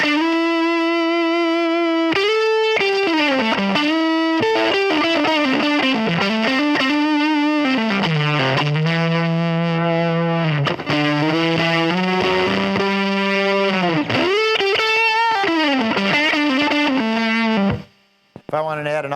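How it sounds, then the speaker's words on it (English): Electric guitar run through the Amplitube 2 Fuzz Ace fuzz effect, loud and saturated, playing a sequence of bending, sliding sustained notes with thick buzzing harmonics before cutting off at the very end. "Here's a fuzz ace for your fuzz sound."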